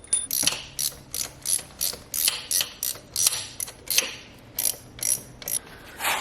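Ratchet wrench clicking in steady bursts while tightening injector pump bolts on a Ford Ranger with a 3.2 or 2.2 engine, about a dozen close, crisp ratcheting strokes with short pauses between them.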